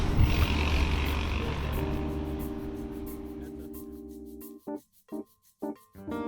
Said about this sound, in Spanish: Tienes el sonido de los turbos que se escucha por todos lados, las válvulas de descarga.